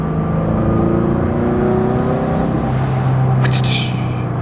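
Turbocharged Subaru BRZ pulling hard under acceleration, engine tone climbing steadily through the gear before a brief hiss from the turbo, loud and close from inside the car.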